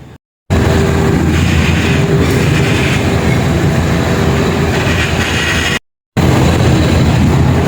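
Local train 431 rolls along the railway through Dong Phaya Yen forest and Lam Takhong in the morning, a loud, continuous wheel-and-track rumble close by, briefly cut off twice.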